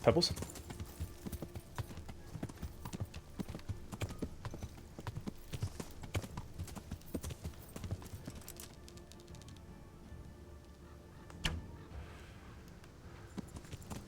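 Horse hooves galloping with a fast, steady clip-clop rhythm in the medieval video game Kingdom Come: Deliverance, close and prominent, with occasional voices talking over the hoofbeats.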